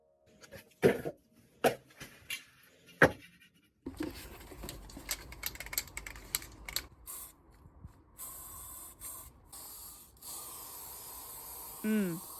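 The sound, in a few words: spray paint can spraying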